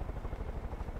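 A helicopter in the video game Far Cry 5 gives a low, steady rotor chop, fairly faint and alone for about a second.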